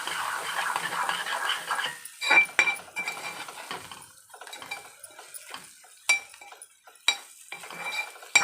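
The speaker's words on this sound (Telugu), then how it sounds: "ఒకసారి కలుపుకుందాం." A utensil stirs egg bhurji with fresh coriander in a pan, making scraping and clinking strokes and a few sharp metallic taps over a faint sizzle, with no talking.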